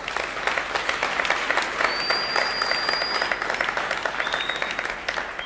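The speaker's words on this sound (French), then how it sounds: "Applaudissez pour vous-même." Festival crowd applauding at a closing ceremony, steady dense clapping from many hands throughout, with a faint whistle rising over it midway.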